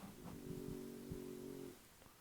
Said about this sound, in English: the sound in the back, that sounds like some sort of machine, is my dog snoring